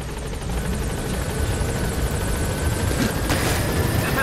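A helicopter approaching a landing zone in the video game Metal Gear Solid V: The Phantom Pain, with a loud continuous rotor whir and engine drone building as it nears.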